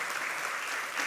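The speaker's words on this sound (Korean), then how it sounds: "우리 박수하시겠습니다" Dense, steady applause from a church congregation welcoming visitors during a Sunday worship service, a brief burst of many hands clapping at once.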